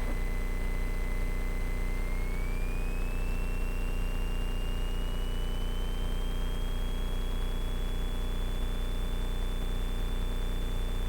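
A light aircraft piston engine holding a steady run-up drone with the throttle set, constant and close throughout, with a thin tone slowly rising in pitch partway through.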